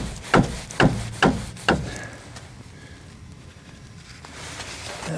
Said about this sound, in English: rubber mallet